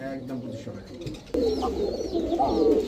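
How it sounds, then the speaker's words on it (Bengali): Pigeons coo in soft, low, rolling calls while someone talks over them nearby. "ডাকে কি কবুতর এটা"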